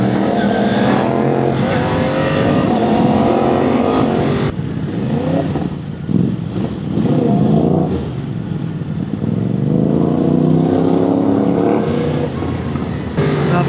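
A Yamaha R1 1000cc superbike accelerates hard in first gear on a ride in Cebu, its engine roaring loud and close throughout with repeated rising sweeps in pitch as it revs through the throttle.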